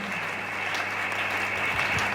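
A church congregation applauding together, an even wash of clapping at moderate distance that continues without a break, with faint murmurs beneath.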